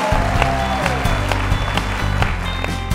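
An audience at a stage talk applauds, clapping sounding over a loud, low, rhythmic musical backing that runs throughout at steady volume.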